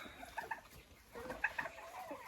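Free-ranging young chicks kept alongside turkeys give soft, faint clucks and short peeps in a few scattered bursts.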